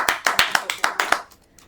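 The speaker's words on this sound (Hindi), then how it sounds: "जोरदार तालियां डॉक्टर गीतिका चतुर्वेदी जी को।" Eight evenly spaced claps ring out close and crisp at a poetry gathering on a radio program, then fade into a quiet room.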